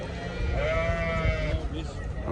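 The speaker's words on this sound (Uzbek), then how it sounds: "Qo'ylarni qaranglar akalar." A sheep bleats once at a livestock market in Kyrgyzstan, a wavering nasal call, over a noisy background of livestock and crowd murmur.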